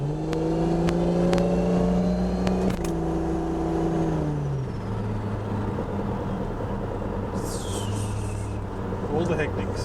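A car engine revving on a first drive, its tone holding steady then dropping to a lower idle-like drone, close and continuous, with people talking over it.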